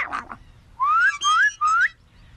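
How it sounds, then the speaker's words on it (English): A person whistles to call a dog: three short rising whistles in quick succession, clear and close, after a brief rustle. "When I whistle, you come to me, okay?"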